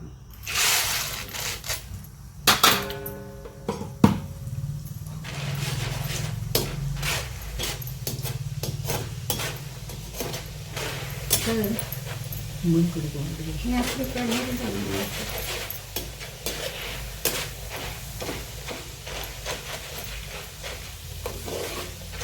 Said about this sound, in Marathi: आता याच्यात आपण हे डाळ घालत आहोत